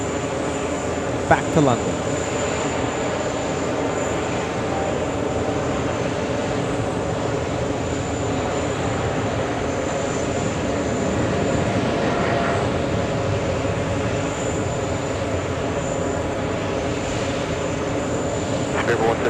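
Speedbird 172, a heavy jet, taking off at JFK Airport on a hot summer day: a steady, loud engine roar rumbles throughout, with an airport voice speaking briefly over it.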